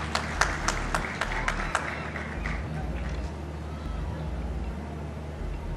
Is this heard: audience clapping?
yes